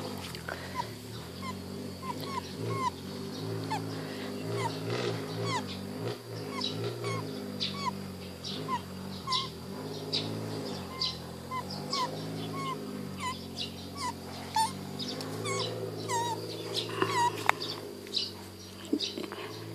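A puppy makes continuous whiny, squeaky vocal sounds up close, with yips and whimpers running throughout over a low background hum.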